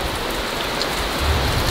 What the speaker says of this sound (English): The rain came in and I guess I'm just gonna hang out under the peaceful and beautiful rain.